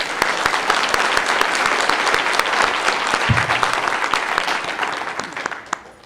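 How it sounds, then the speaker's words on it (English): At a county spelling bee for fifth and sixth graders, the crowd gives the top ten a loud, full round of applause, sharp claps close by over a dense wash that slowly thins toward the end. "let's give a round of applause to our top 10"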